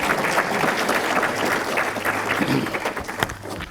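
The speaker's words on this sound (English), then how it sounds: "Let's have one more round of applause and appreciation for all of our well-deserved winners tonight." A banquet crowd applauds award winners warmly, a dense steady patter of many hands clapping that carries on throughout at a strong, even level.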